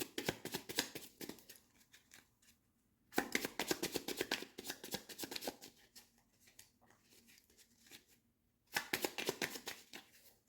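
Tarot cards are shuffled and cut by hand in three close, crisp bursts of papery riffling and slapping, separated by short quiet pauses.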